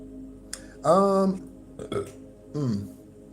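A loud, throaty burp rolls out mid-conversation during a tarot-style reading, with a shorter second belch following after a pause amid faint voice sounds.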